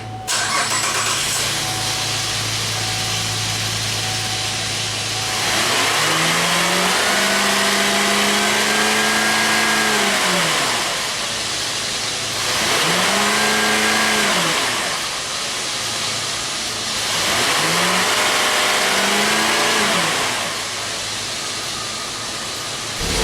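A car engine revs loud and close in several rising and falling throttle sweeps during an exhaust back pressure test, settling back to a steady idle between each rev.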